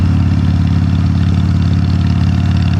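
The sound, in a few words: motorcycle engine while riding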